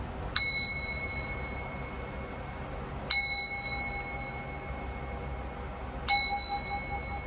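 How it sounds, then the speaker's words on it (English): Three struck singing bowl tones ring out evenly spaced, each a bright strike that leaves a long, sustained shimmering hum, clear and close in a quiet room. "Let us start off by ringing our sound bowl 3 times."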